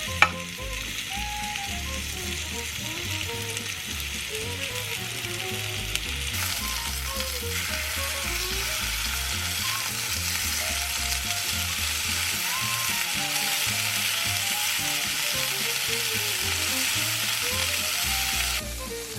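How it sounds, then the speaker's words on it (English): A peppercorn-crusted steak sears in lard in an enamel cast iron skillet, giving a loud, continuous sizzle with occasional scraping and stirring noises. No one speaks. "I sear either side of the steak for about 4 minutes"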